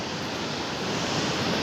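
Big swell surf at Playa el Socorro on Tenerife's north coast, a steady broad roar of breaking waves with wind rushing over the microphone, no voices.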